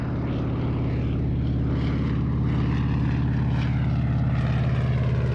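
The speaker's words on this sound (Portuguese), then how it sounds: "Estes são Canadair. Eles recolhem água do mar sem nunca aterrissar." Canadair firefighting water-bomber aircraft flying over the dry Mediterranean coast, a loud, steady propeller engine drone that holds throughout with slight pulsing and no voices.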